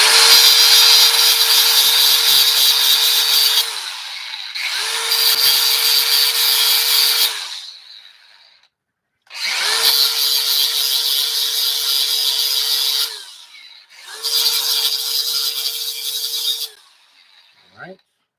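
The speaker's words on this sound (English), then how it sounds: "It's a little bit on the rusty side, so I quickly grabbed my 4-inch grinder" A 4-inch angle grinder scours rust off a golf cart battery terminal in four loud, sustained bursts of harsh abrasive whine, with short pauses between each pass as the motor spins down.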